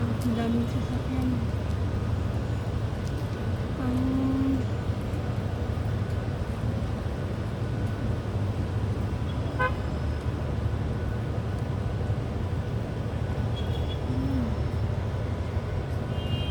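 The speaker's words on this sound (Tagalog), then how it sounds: "Ang daming sasakyan." Rainy street traffic rumbles steadily, with several short car horn toots scattered through it and a constant wash of wind and rain noise underneath.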